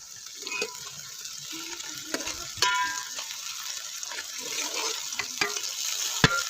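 Onions, green chillies and fenugreek leaves frying for fish curry, a steady close sizzle with stirring scrapes and occasional sharp clicks throughout.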